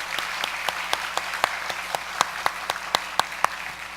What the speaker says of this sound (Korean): 우리 박수로 환영하며 축복하겠습니다.